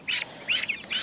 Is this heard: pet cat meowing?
no